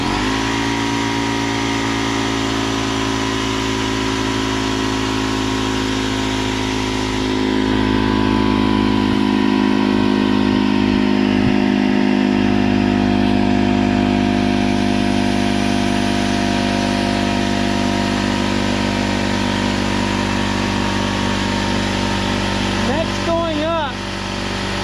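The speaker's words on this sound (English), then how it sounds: "I'm going to go ahead and cut the power on to the compressor." An air compressor runs continuously with a steady, loud mechanical drone and hum, unchanging throughout, with people speaking briefly over it.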